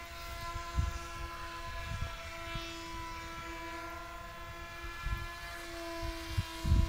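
A steady propeller whine runs the whole time, holding several even tonal lines with low rumbling thumps underneath.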